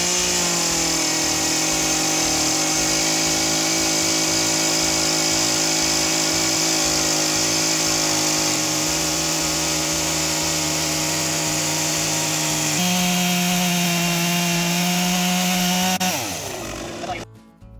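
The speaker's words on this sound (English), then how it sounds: "I thought maybe the chainsaw would be the right tool for this" A chainsaw runs loud and close as it trims the wooden frame of a window opening in a shotcrete wall, holding a steady roaring buzz with slight pitch shifts before cutting out at the end.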